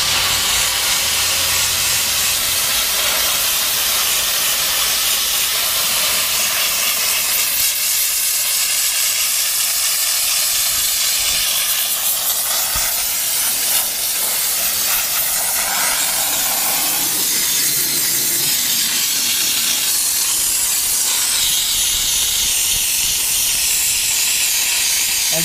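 A steam cleaner hisses steadily and loudly throughout, a continuous broadband rush with slight shifts in pressure, as it blasts the door jambs of a Subaru Forester, no voices present.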